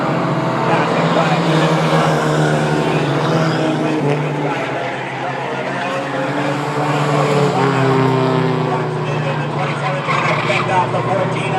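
Mighty Trucks race around Star Speedway, their engines roaring loudly as they pass, with the pitch rising and falling under continuous commentary from an announcer.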